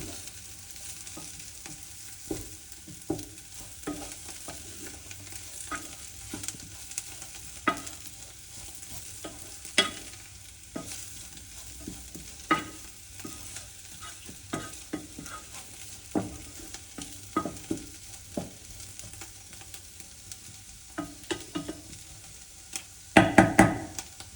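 Home fries of potatoes, onions and peppers frying in a pan in a small kitchen, a quiet steady sizzle dotted with crackles and pops, growing into a cluster of louder clatters at the very end.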